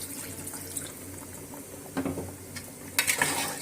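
Water poured into a pot of spiced duck meat being cooked, a steady splashing pour with a few sharper splashes toward the end, close up over a soft background hiss.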